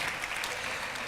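Steady audience applause at a high school spring band concert, honoring All-State band players; dense, even clapping throughout with no talk.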